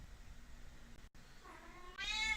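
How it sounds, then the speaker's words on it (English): A cat lets out a drawn-out meow near the end, close and fairly loud, after a quiet stretch of room noise. "Oh, here goes the cat."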